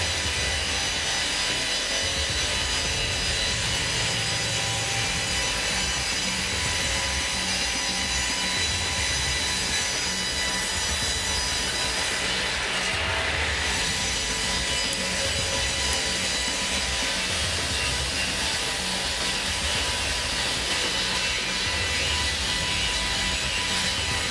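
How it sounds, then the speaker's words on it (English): A fast sawmill blade cuts through wood in one long, loud, unbroken stretch of dense rasping and rumbling machinery, with no voices. "This is the fastest saw that sawmill has ever used."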